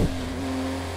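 A Porsche 962C race car engine droning steadily at speed around the Nordschleife at night in Project CARS 2, a continuous loud hum with no pauses.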